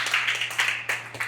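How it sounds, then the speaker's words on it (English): Brief round of audience clapping for Emma at a coaching talk, a few close, sharp claps in uneven bursts over a quiet room. "let's give Emma a round of applause"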